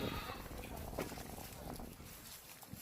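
Pregnant goats bleat a few times amid a noisy farmyard, with voices murmuring in the background.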